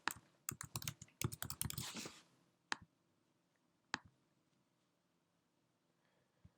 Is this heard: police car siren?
no